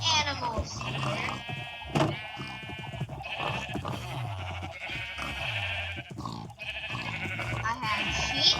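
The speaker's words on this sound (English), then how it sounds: "I had sheep." Minecraft sheep bleat repeatedly in wavering, nasal calls, several in a row at a moderate level, with someone talking between and over them.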